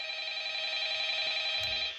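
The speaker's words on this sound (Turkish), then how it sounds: "Ya şu telefonu bir kapatayım. Oyundaki telefonu diyorum. Ses çıkarıyor." A telephone rings in the Five Nights at Freddy's video game, a steady electronic ringing tone held for about two seconds and then cutting off, with no talk over it.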